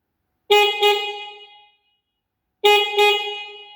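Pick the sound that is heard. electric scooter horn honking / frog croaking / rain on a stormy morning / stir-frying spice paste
electric scooter horn honking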